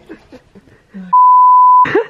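A single loud, steady, pure-tone censor beep lasts under a second and cuts off a swear word, with brief speech just before and after it.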